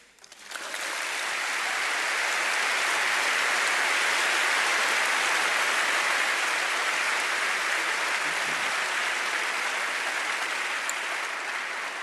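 Sustained applause from a large audience after a lecture at the Festival of Dangerous Ideas, a dense, even wash of clapping that builds quickly and holds steady for about eleven seconds with no talk.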